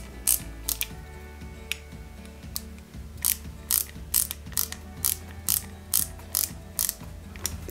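A screw is driven by hand into a part of a 1/8-scale Porsche 917KH model kit, with a close ratcheting screwdriver clicking in a steady series of crisp bursts over a faint background hum.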